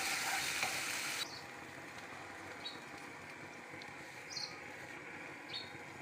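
Ginger-garlic paste sizzles steadily in hot oil for an egg cutlet, with a louder burst at the start settling into a continuous hiss and a few faint scrapes of stirring.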